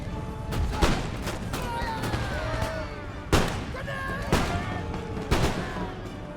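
Musket volleys and artillery fire in Empire Total War, a line-infantry battle, with scattered booming shots and crackling volleys spaced a second or so apart over a continuous battlefield din.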